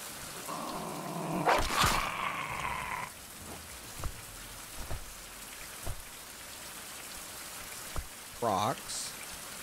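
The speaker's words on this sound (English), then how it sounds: "it's going to rain on me, isn't it?" Video game rain patters steadily throughout, with a few sharp thuds and a brief louder rushing burst, plus a sweeping tone near the end.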